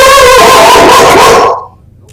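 A golden doodle gives one loud, drawn-out bark or howl at close range that cuts off abruptly into near silence.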